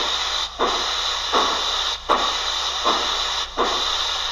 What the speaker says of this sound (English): We're going to open our cylinder cocks.